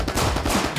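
Dense gunfire at an indoor gun range, a rapid run of loud overlapping shots filling the whole moment with little pause between them.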